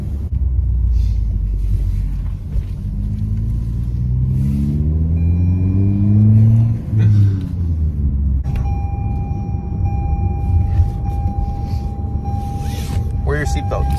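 A 2020 Toyota Corolla fitted with a Remark exhaust heard from inside the cabin, the engine droning and rising in pitch as it accelerates, then settling into a steady hum, with people talking over it.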